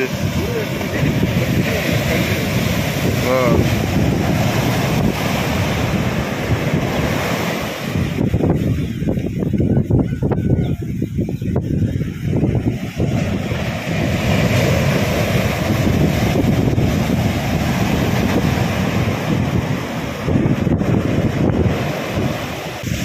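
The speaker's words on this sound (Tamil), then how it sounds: "அலை இப்போ இங்கே மேலே வர வந்துட்டு பார்த்தியா?" Surf rolls in steadily at a beach by Thengapattanam harbour, loud and continuous with heavy wind buffeting the microphone, and faint talk mixed under the wash of the waves.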